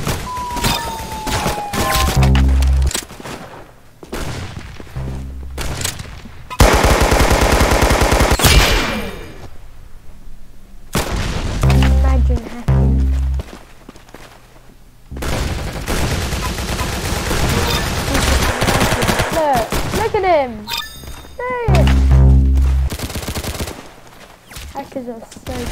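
Video game gunfire in Roblox Arsenal comes in repeated rapid bursts and single shots with heavy low thumps, mixed with game sounds and a player talking between volleys.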